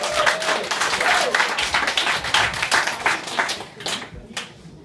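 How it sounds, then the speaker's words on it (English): A stand-up comedy crowd applauds a comedian taking the stage: loud, dense clapping with some cheering, holding steady before thinning out toward the end. "So please give a warm round of applause for Socrates!"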